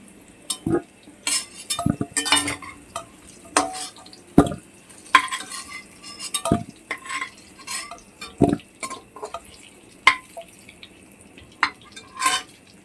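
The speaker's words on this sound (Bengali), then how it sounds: "এবার যা তেল আছে আলু ভাজার পর ওই তেল আমি পেঁয়াজ দিয়ে দিচ্ছি" Chopped onion goes into oil left from frying potatoes and is stirred with a utensil that clanks and scrapes against the pan in irregular bursts over a faint sizzle.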